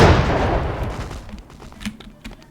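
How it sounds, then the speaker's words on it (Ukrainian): A grenade explosion in the video game BloodRayne: a loud, close boom up front that rolls off into a long rumbling decay, with a few faint crackling pops trailing behind. "Невдало гранату кинули."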